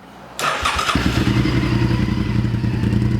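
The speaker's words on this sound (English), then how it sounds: "Start the bike up." A motorcycle engine cranks and fires up, then settles into a loud, steady idle with a throbbing rumble, heard up close.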